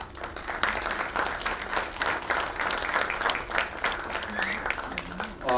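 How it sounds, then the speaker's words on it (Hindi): An audience applauds steadily at the opening ceremony of the 8th Jagran Film Festival 2017, a dense, continuous patter of many hands in a large hall, with a voice briefly speaking near the end. "तालियों में जरा जोर मुझे कम दिख रहा है"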